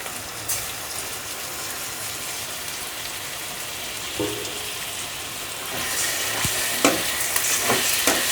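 Prawns and onions fry in a pan over low flame in a steady, crackling sizzle with stirring scrapes, and the sound turns louder and brighter toward the end as spatula knocks punctuate it, with no talking.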